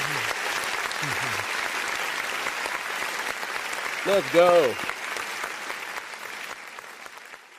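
Studio applause for a guest on a football talk show, steady clapping from a small group running under brief speech and voices, fading slightly toward the end.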